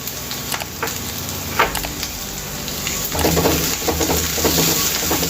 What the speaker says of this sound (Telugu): ఇదంతా వేసుకొని ఒకసారి ఇలా కలిపేసుకోవాలి